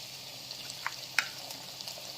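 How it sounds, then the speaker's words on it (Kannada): Ginger garlic paste added to a pan of frying food sizzles steadily, with a few sharp pops and spatters rising over a continuous close crackle. "ಈಗ ಸ್ವಲ್ಪ ಫ್ರೈ ಆದಮೇಲೆ ಶುಂಠಿ ಬೆಳ್ಳುಳ್ಳಿ ಪೇಸ್ಟ್ ಹಾಕ್ಕೊತಿದ್ದೀನಿ."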